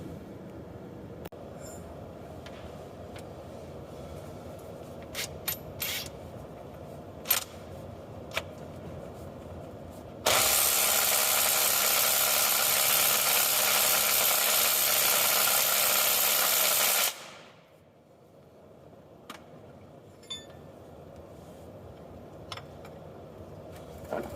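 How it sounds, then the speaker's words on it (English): A 3/8-inch impact wrench backs a bolt out of the engine of a Case 310 dozer under restoration: one loud, sustained, rattling burst of about seven seconds that stops abruptly, with quieter shop clatter before and after. "The 3/8 impact took it right out on setting number 3."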